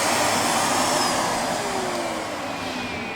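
A Miele S7510 upright vacuum cleaner with a full bag runs with a loud, steady whine and roar close by, its pitch drifting slightly, with no talk.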